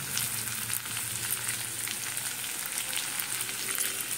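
Onion fries in spiced oil in a pan, giving a steady, close sizzle with faint crackles throughout. The sound is continuous and even, with no talk.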